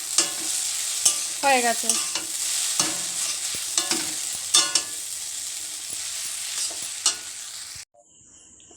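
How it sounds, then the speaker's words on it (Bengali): Chowmein sprinkled with Maggi masala is stirred in a sizzling pan, with a bright continuous hiss, sharp utensil scrapes and taps, and a brief spoken phrase before the sound cuts to near silence. "এই একটু ম্যাগি মশলা ছিটিয়ে দিয়েছি, নাড়াচাড়া করে নামিয়ে নেব"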